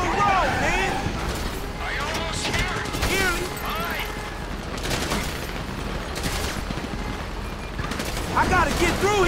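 Bursts of gunfire crackle in a Grand Theft Auto V street scene, scattered shots and rattles under frequent shouting voices and a steady background rumble throughout.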